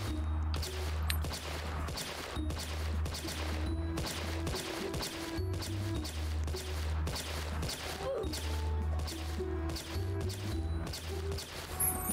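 Repeated gunshots crack in a Roblox zombie field-trip game, rapid bursts and single shots spread across the whole stretch over a low rumbling game background.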